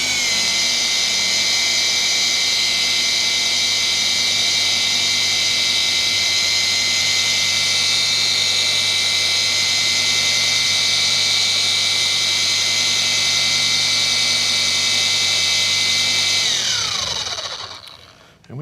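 A RUPES polisher runs at low speed while priming a pad with product, a steady high-pitched electric whine held for many seconds before winding down and stopping near the end.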